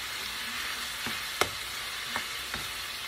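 A creamy shrimp dip frying in a pan, with a steady close sizzle and a few soft clicks and taps over it.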